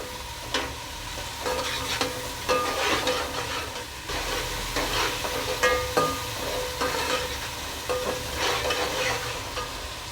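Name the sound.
ginger garlic paste frying with onions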